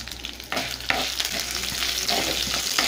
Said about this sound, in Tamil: வெங்காயம் பூண்டு இதெல்லாம் சேர்த்து நல்லா வதக்கிக்கலாம்